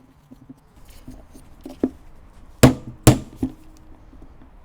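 A hammer punch taps on a Toyota fan clutch, giving a few light knocks and then two sharp, loud metallic strikes close by, followed by a softer tap, with small handling noises between hits.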